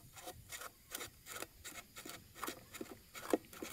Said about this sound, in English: Oh, the whole rod is turning.